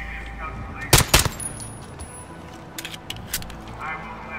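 Gunfire in the Call of Duty Modern Warfare campaign: a loud, close burst of rapid shots, then a few scattered lighter reports, with voices speaking in between.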